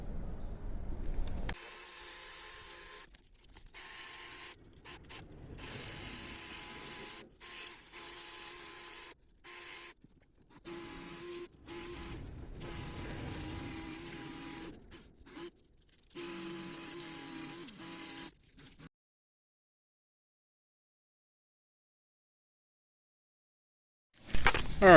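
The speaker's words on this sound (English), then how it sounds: "I'm gonna go ahead and sand the rest of it now." Sandpaper rubs steadily over a metal yoyo in close, quiet, rhythmic strokes with short pauses between passes, then the sound stops and near-silence follows.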